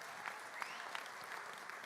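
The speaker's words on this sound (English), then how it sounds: "You can applaud for the violence interrupters." An indoor audience at a community public safety meeting claps for violence interrupters, giving steady, sustained applause at moderate distance with no talking.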